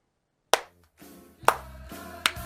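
Three sharp, separate hand claps in a quiet room, close and crisp with short pauses between them and a faint hum underneath.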